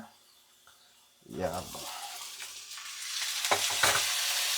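Onions and green chilies fry and get stirred in a pan for masala guggulu, a steady sizzle with scraping stir strokes and a brief clatter midway, close and moderately loud, with no talking.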